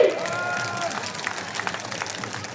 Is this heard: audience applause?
yes